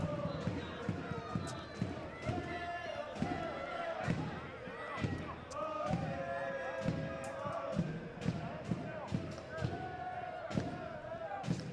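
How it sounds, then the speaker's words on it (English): Excited crowd noise at an amateur soccer match between CFC Atletico and Ballard FC, heard right after an equalizing goal: steady cheering with sharp claps and thumps that keep rising, and a commentator's voice talking over the top. "Crowd excited."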